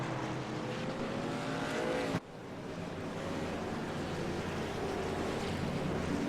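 Race cars roaring past on the track at a Michigan race, a loud steady engine drone with a sharp cut at about two seconds before the roar continues.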